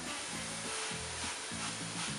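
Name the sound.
mbourekia egg rolls in phyllo frying in a pan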